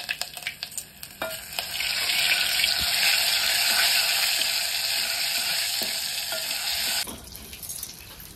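Cumin and mustard seeds frying in hot oil in a kitchen pan, a loud continuous sizzle that swells after a few initial pops, holds steady for several seconds, then drops away abruptly.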